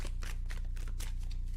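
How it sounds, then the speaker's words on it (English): A tarot card deck being shuffled, giving quick, soft riffling flutters in a short close burst with no talking. "give me two shuffles"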